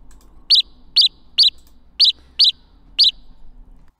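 Six short, bright synthesized chirps in a sparrow-like tone, spaced about half a second apart over a quiet low hum, with no talking.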